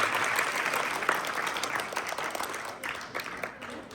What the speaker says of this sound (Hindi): और मैम के लिए जोरदार तालियों से